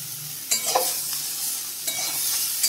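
Pieces of ridge gourd are stirred with spices in a pan over low heat, giving a soft, steady sizzle with two brief scraping stirs close by.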